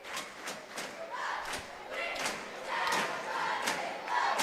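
Basketball gym crowd cheering and shouting as cheerleaders take the floor during the final period of a school game, a continuous swelling roar with scattered thumps and a commentator talking over it.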